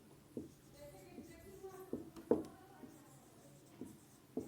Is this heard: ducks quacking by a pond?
no